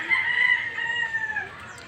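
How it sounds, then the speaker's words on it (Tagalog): At a large poultry farm, a rooster crows in one long drawn-out call, with faint clucking from other chickens in the background. "ang daming manok manok dyan lawak malawak na manukan"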